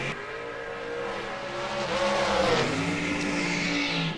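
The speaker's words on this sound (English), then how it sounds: "Precision reaction dragster over there for Billy. He's going to go first" A drag racing dragster roars down the strip in a loud, continuous engine run whose pitch climbs steadily as it accelerates, with no talk.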